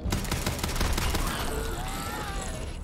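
Dense bursts of semi-automatic gunfire in the video game Starfield, loud and continuous for several seconds amid game combat noise, with a player's voice partly heard underneath.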